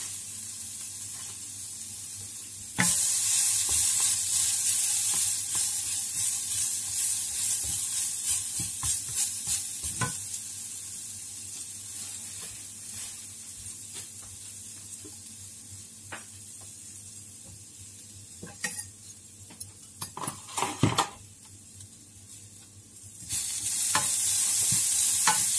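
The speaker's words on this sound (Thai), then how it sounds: "ผัดมะพร้าวค่ะ" Grated coconut is stir-fried in a pan, a steady close hiss and sizzle with frequent scraping and tapping of the utensil, growing louder in bursts near the end.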